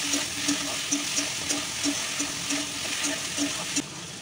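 Okra fries in a pan on a gas stove in a home kitchen. A soft, steady sizzling hiss runs throughout, with faint regular clicks or stirring taps underneath.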